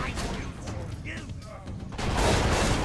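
Grenade explosion in the video game Borderlands 2, a loud broadband blast bursting in near the end amid ongoing gunfire and game noise.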